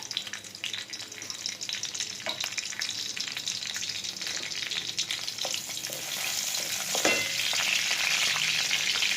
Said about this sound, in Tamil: எண்ணெய் சூடு வந்ததுக்கப்புறமா ரம்பை இலை போட்டுக்கலாம்